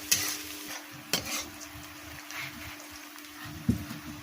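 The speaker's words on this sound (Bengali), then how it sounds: "পেঁয়াজ কুচিগুলো ভালো করে নেড়ে নরম করে নিতে হবে" About one and a half cups of chopped onions with peppercorns fry quietly in a pan for a country chicken curry, with a soft steady sizzle and three distinct scraping stirs of a spatula near the start, middle and end.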